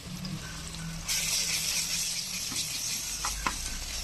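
Onions with ginger-garlic paste frying in a pan for mutton curry, a steady close sizzle that swells louder after the first second and holds, with a few faint clinks of stirring.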